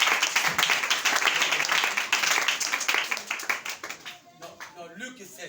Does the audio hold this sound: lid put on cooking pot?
no